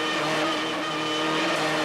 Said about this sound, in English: Now we're in car with Mike Smith in the Ford Sierra Cosworth